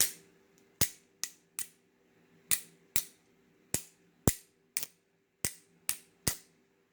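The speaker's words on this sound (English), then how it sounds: "So this is a magnesium fire starter." A magnesium fire starter struck again and again, giving eleven sharp scraping clicks at an uneven pace, each a close, bright, short rasp with a quick decay. Quiet pauses separate the strikes.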